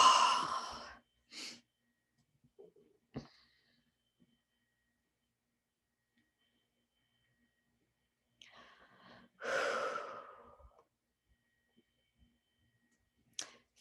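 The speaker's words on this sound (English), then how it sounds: "let's breathe that in" Deep breaths during a guided healing meditation: a long audible inhale and exhale at the start, a couple of soft breath noises, then another deep breath later, separated by near silence.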